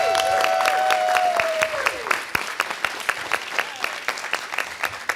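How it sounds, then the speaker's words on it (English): Crowd applause for a Summerlin South Little League team at a Las Vegas city council meeting. Dense clapping runs the whole time and thins toward the end. A brief whistle-like tone sounds near the start. "Let's give them a round of applause."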